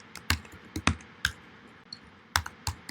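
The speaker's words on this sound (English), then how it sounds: "I'm just going to move this box around using my arrow keys on my keyboard" Arrow keys tapped on a computer keyboard, a string of sharp, close plastic clicks in irregular pairs and singles over a quiet room hum.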